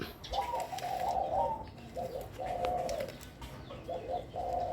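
A female dove coos repeatedly in short, throaty, mid-to-high pitched phrases, fairly close, over a noisy outdoor background with faint chirps.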